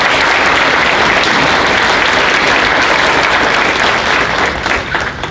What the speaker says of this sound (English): I'd like to give the staff a big round of applause.